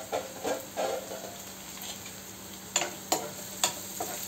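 Onions frying with salt in a pan at home, a soft steady sizzle broken by a few sharp ticks and scrapes of stirring, close and moderately quiet, with no talking.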